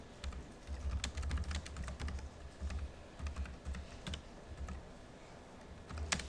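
A computer keyboard clatters under steady typing as JavaScript code is entered, a quick, uneven run of close, light key clicks with short pauses between words.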